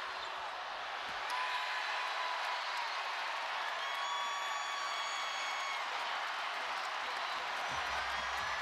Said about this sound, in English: Beckers exhorting again this sold-out crowd to go from loud to louder to loudest